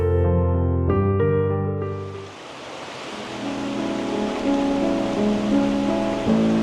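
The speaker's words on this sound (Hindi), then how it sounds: "सुबह के 7 और बाहर बहुत बारिश हो रही है।" Heavy morning rain falls outside a heritage property in Chanderi, Madhya Pradesh, a dense, steady broadband hiss that swells in after a short burst of music and continues unbroken with no voices.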